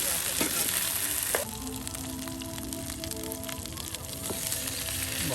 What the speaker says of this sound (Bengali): একদম সব একসাথে এই যে ভেজে নেওয়া হচ্ছে।